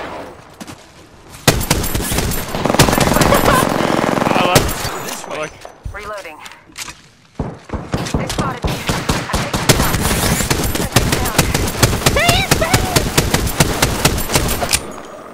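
Dense automatic gunfire and rapid weapon bursts in Apex Legends, loud and sustained through most of the stretch with a brief lull, while players talk now and then underneath.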